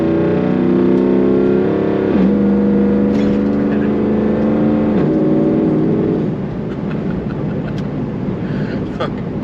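A loud, droning exhaust on a Y62 revving and holding steady, with rising and falling engine pitch, very close and dominant throughout.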